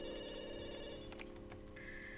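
Telephone ringing, a steady electronic ring held over about two seconds, fairly loud and near, with a faint higher beep near the end and no talk.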